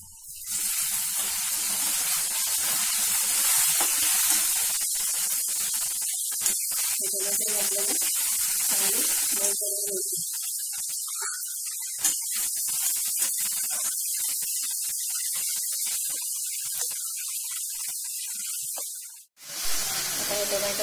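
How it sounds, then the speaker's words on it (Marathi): Onion, garlic and tomato fry in a pan with a steady, close hiss and sizzle that runs almost unbroken, cutting out briefly near the end, while a person talks over it. "आता कांदा लसूण चांगले फ्राय झाले की आपण त्यात टाकणार आहोत"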